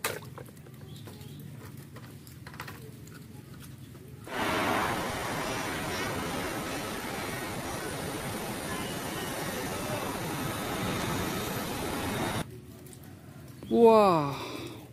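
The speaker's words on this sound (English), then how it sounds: "Wow, pesawat terbang." Airplane flying overhead, a steady broadband engine roar that rises abruptly, holds for about eight seconds and cuts off, with quieter ambience and a brief voice near the end.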